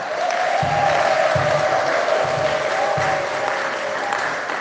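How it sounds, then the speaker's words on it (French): Easter Sunday Mass congregation clapping and cheering for Jesus, a loud, dense, sustained wash of applause from a large crowd in a church, steady throughout with a low rhythmic thumping underneath. "Alors, acclamons Jésus très fort."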